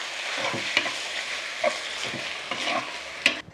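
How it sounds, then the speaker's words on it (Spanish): Chilies seasoned with black pepper and salt fry and brown in a pan, giving a steady close sizzle broken by four or five spoon scrapes and taps at irregular intervals. "Y aquí lo voy a dejar que se dore."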